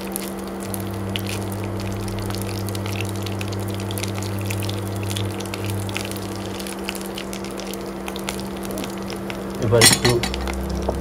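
Dried red chillies and whole cumin fry in hot oil with a steady close sizzle for mugeshwari enchor, a short clatter of a utensil near the end and brief speech over it.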